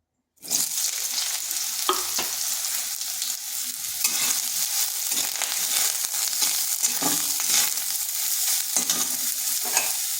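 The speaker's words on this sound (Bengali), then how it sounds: "প্রথমে সয়াবিনটা একটু ভেজে নেব।" Soybean chunks fry in hot oil in a wok, a steady close sizzle with repeated stirring scrapes and clatters running throughout, no voices.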